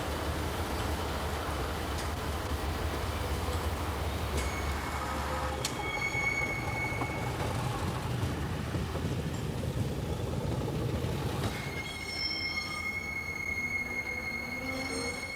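A British Rail Pacer railbus running on rails, steady rumbling wheel noise with metallic flange squeals and high-pitched screeching tones rising near the end, fairly faint and without talking.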